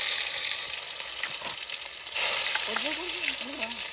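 Ginger garlic paste sizzles and fries in a pan at an outdoor village cook of a simple chicken dish, with a steady loud hiss and scraping stir strokes, and a brief faint voice-like tone near the end.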